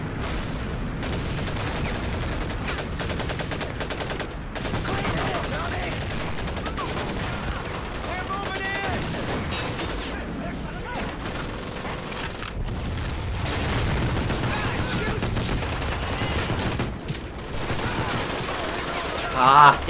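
Sustained gunfire and explosions from Medal of Honor Pacific Assault during a last stand against a banzai charge, dense overlapping shots and booms running throughout at moderate loudness, with voices shouting beneath.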